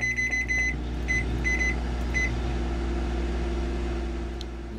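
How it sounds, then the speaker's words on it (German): A microwave oven hums steadily as it heats a potato in Cooking Simulator, a low continuous drone with a few short beeps near the start. "Wie lange muss denn eine Kartoffel in der Mikrowelle, ist die Frage."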